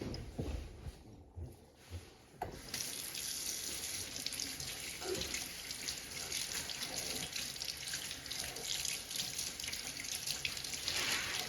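Eggs being rinsed under a running kitchen tap, water streaming steadily into a sink for most of the stretch after a brief quieter start, close and continuous with no talk.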